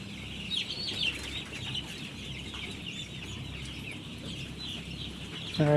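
Chickens on a poultry farm cluck and chirp continuously in a soft, steady chorus over a low background hum, with a sharper burst of calls near the end.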